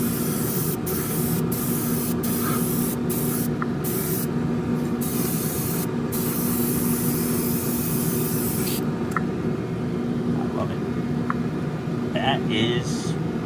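Clear coat sprayed onto the roof of a Revell 1968 Pontiac Firebird 400 scale model kit: a continuous steady airy hiss over a constant low hum, with short breaks in the spray and faint background sounds.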